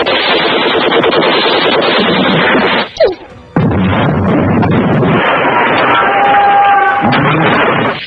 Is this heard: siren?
no